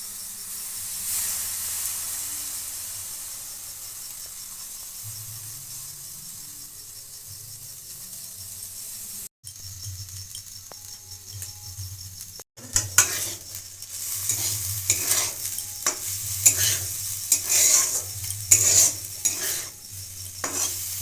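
Coriander leaf paste fries in a pan for a tricolour pulao. A soft, even hiss comes first, then louder sizzling with rhythmic scraping and stirring strokes close by.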